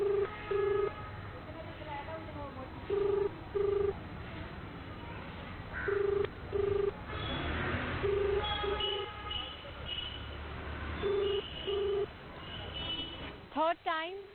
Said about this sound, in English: This is the second time the number is ringing and